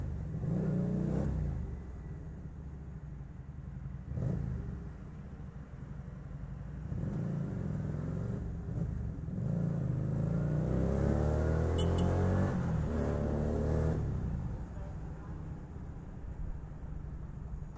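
An FKM Victorino 250i motorcycle with an SC Project aftermarket exhaust, freshly broken in, revving repeatedly nearby with deep throaty bursts rising and falling in pitch over a rumbling idle.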